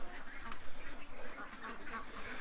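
Ducks being herded into a pen at night give off a scatter of quiet, overlapping quacks at a moderate distance, soft and irregular against background noise.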